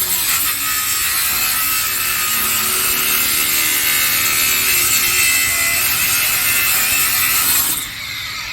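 A Bosch GWS 18V-180 PC 7-inch cordless angle grinder cutting through material: a loud, steady high-pitched grinding whine, continuous for several seconds before dropping off at the end.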